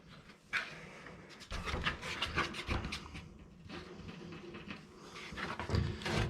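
Scraping and rasping while hole positions are marked on a seat bracket, repositioning 1965 Thunderbird seats in a 1951 Chevrolet Fleetline, a close, irregular stream of rubbing strokes with no talk.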